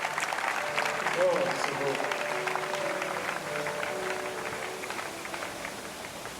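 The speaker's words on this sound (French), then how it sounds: "On acclame le Seigneur pour l'apôtre" A congregation applauds and cheers for an apostle at an outdoor religious gathering on the esplanade of the Parliament Palace: a steady wash of clapping and crowd noise runs throughout, with a voice speaking briefly over it.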